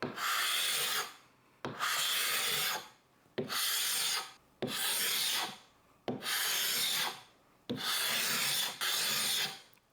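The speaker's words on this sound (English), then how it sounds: "You don't have to go as low in sandpaper grit and risk sanding through the veneer if there is veneer underneath." Sandpaper is rubbed over wooden furniture to strip the top coat, giving seven evenly paced, raspy strokes, each a loud close scratch separated by brief pauses.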